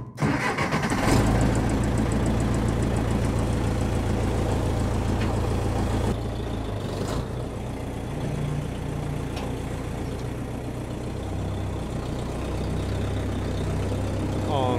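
A tractor engine cranking to life with a loud burst and then running at a steady, rumbling idle for several seconds, with brief knocks and clatter over the continuous drone.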